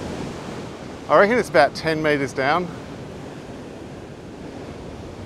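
Ocean water surges through the Mangan blowhole in a constant, broad roar with wind buffeting the microphone, and someone speaks briefly over it partway through.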